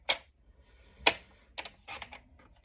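A paper trimmer cuts cardstock at the 4 1/4 mark while a beach-themed card is being made. A few sharp, close clicks and snaps are spaced irregularly over a quiet background, with no talking.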